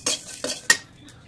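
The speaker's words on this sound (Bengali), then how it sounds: "খালি কড়াই একটু ভেজে নেবো।" Whole spices, panch phoron, cumin and coriander, dry-roasting in an empty wok, with three quick metallic scrapes and rattles of a spoon against the pan, close and fairly loud, then a faint final tap.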